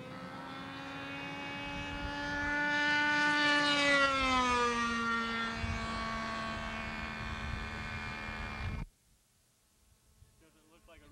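A model airplane flies overhead with a loud, buzzing engine drone that rises and shifts in pitch as it passes close by, then cuts off abruptly near the end.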